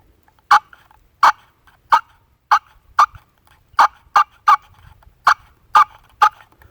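A spring-loaded plastic turkey call, worked by pushing with one hand, gives a series of about eleven sharp, loud gobbling yelps at uneven intervals, close up, with no talking.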